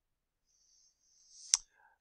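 One crisp computer mouse click follows a faint rustle of movement in an otherwise silent room.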